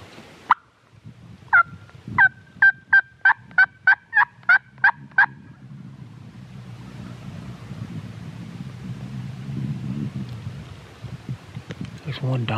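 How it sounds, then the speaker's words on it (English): Wild Merriam's turkeys gobble outdoors on public land, first a single distant gobble, then a rapid run of about ten loud, evenly spaced gobbles, followed by a low rumble of wind and faint ambient noise. "There's one dominant bird in there. I just wonder if the rest of them are drakes or if they're just other turkeys that are not dominant."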